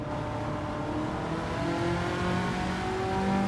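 Ford GT engine in the Gran Turismo 7 racing game, a steady layered drone of revs climbing gradually and holding loud throughout with no talk over it.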